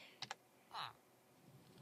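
A few soft, quick computer keyboard clicks for a Minecraft command, followed by a single brief louder key press, all faint and close.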